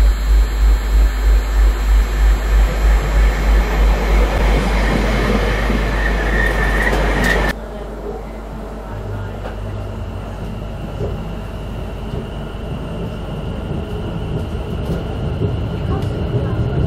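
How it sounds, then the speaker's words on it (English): A train pulls into a small Essex station on the Wickford service, a loud, close rumble of wheels and engine that abruptly drops partway through to a steadier, quieter hum as it settles at the platform. "And here comes the train to take me back to Wickford."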